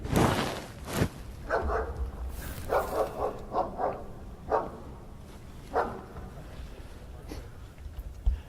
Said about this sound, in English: I know you folks at home can hear the dog barking in the background.